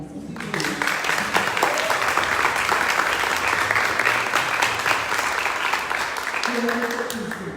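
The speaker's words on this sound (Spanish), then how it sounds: "Un aplauso para Cristo." Applause from an audience at a live theatre talk, a full steady burst of clapping with a few voices murmuring beneath, ending as a speaker starts again.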